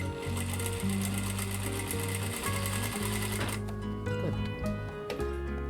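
An industrial sewing machine stitches in a steady, rapid mechanical hum with rhythmic needle clatter, slowing and changing pitch partway through; a brief spoken word is heard over it.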